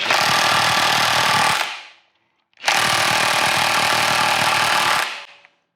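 A half-inch impact tool hammers at the crankshaft bolt of a seized BMW N51 engine in two long, loud rattling bursts separated by a short pause, close up and with no talk.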